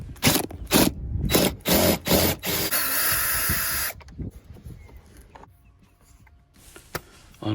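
Screws being worked loose by hand on the plastic air filter housing of a Nissan Micra, with a series of short scraping, ratcheting bursts followed by quieter mechanical fiddling, close up.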